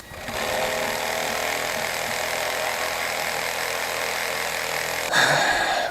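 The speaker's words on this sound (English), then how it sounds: "she's using a reciprocating saw to do a bushcraft project" Reciprocating saw cutting wood outdoors for a bushcraft shelter, a continuous buzzing rasp running for several seconds with a brief change in pitch near the end.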